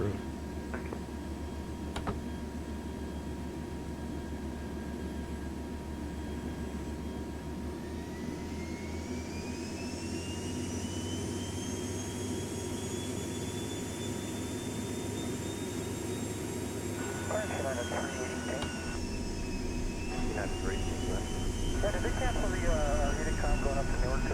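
A small aircraft's engine drones steadily while taxiing to runway 20, a loud continuous hum with a rising tonal whine partway through and brief beeping tones near the end.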